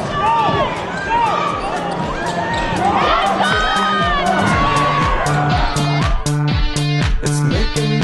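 Home crowd at a basketball game in a hangar cheering and shouting, with a dense roar of voices, whoops and rhythmic clapping close around, building steadily throughout.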